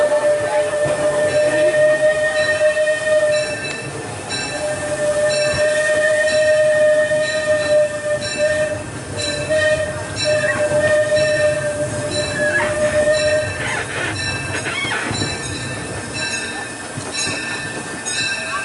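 Disneyland Railroad steam train rolling along its rails, a loud continuous rumble with clattering wheels and a sustained high whistle-like squeal running through much of the passage, no voices.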